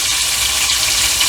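Sway fish frying in a pan, a loud, close, continuous sizzle with crackling hiss and no voices.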